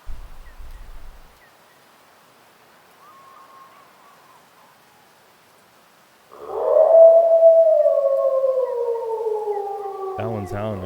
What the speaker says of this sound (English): That one's howling right there.